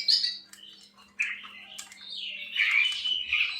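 A Bali starling (jalak Bali) gives a run of squawking, chirpy calls in several close, loud bursts with short gaps, and no voices are heard.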